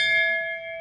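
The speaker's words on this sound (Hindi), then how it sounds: "घंटी की आवाज़ सुन के कितना अच्छा लगता है।" A metal temple bell at the Bhuteshwarnath Mahadev shrine rings once, close and clear, its bright tone hanging and slowly fading, with no voices.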